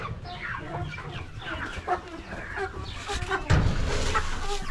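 Chickens, including new dwarf Australorps, cluck repeatedly in a lively flock on a farm as they are fed mixed pigeon feed with crushed wheat and barley, with a voice in the background.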